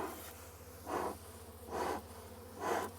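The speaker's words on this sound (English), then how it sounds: "the forager bees, those ones that are flying, are going to make it back into the hive" Forager honey bees flying around a hive during a varroa mite check: a faint, low buzzing hum that swells three times as bees pass close by, with steady soft background noise and no talking.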